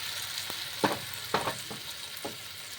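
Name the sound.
masala crepe batter cooking in a pan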